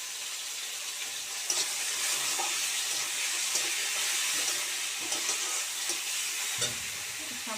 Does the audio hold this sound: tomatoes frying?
yes